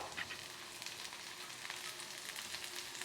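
Tomato frying in a pan gives a steady, moderately faint sizzle with small pops scattered through it, continuous and alone with no voices.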